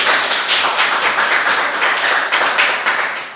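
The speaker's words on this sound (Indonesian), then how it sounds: "Tepuk tangan untuk kita." A classroom of students claps hands together after group presentations, loud, close and busy, with uneven bursts of clapping that carry on throughout and fade a little at the end.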